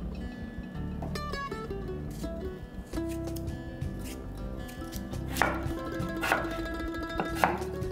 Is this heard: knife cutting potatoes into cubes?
yes